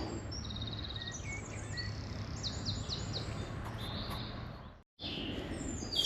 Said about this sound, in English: Just hear the birds.